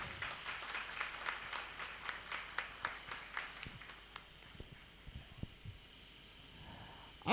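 An audience at an Indian Red Cross Society gathering in Veraval claps in a steady, fairly even rhythm. The claps thin out and fade to scattered sounds after a few seconds.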